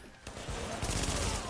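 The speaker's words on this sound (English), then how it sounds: "I hear a turret." A turret in a video game fires a rapid, sustained burst, a dense rattling stream of shots heard at moderate distance after a brief quiet moment.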